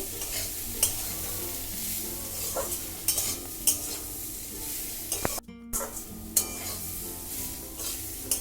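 Potatoes and bitter gourd fry in a pan with turmeric while a spatula stirs and scrapes, making a steady sizzle broken by sharp clinks and scrapes throughout.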